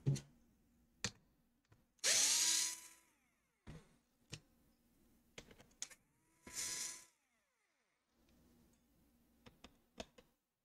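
A power screwdriver removes screws from a Lenovo Legion Y545 laptop during a charge port repair, with short whirring bursts between quiet pauses and small clicks of screws and tools, close and alone.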